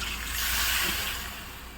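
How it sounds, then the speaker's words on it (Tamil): Water poured into crab masala in a pan while making a crab thokku, a steady rushing, splashing pour close up, fairly soft, with no voices. "நண்டை நல்லா மசாலாவில் மிக்ஸ் பண்ணிவிட்டு அப்புறமா அது வேகிறதுக்கு தண்ணி விட்டுங்க."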